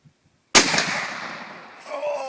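A single loud gunshot from a 300 Magnum rifle fired by Luke outdoors after a brief quiet, followed by a long rolling echo that fades as voices begin.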